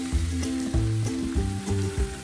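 Ginger garlic paste hitting hot oil with sliced onions for kosha mangsho, a continuous loud sizzle with a few rhythmic stirring knocks over about two seconds.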